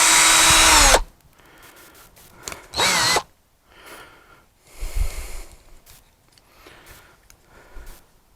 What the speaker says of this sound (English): back to the drill.